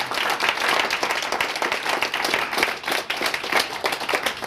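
An audience at a business humor leadership lecture applauds, a dense, sustained round of clapping from many hands that continues steadily throughout.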